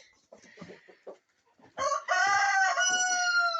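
Chickens cluck softly a few times, then a rooster bursts into a loud, drawn-out crow close by.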